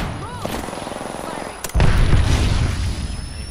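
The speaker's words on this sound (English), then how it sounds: "Throwing thermite grenade." A thermite grenade in the video game Apex Legends goes off with a sudden loud burst and a sustained roaring blast that lingers, after a stretch of game sounds and voice.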